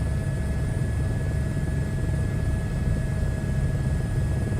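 Helicopter rotor and engine in Microsoft Flight Simulator 2024, a steady, loud drone with a low throbbing blade beat and whining turbine tones running continuously without pause.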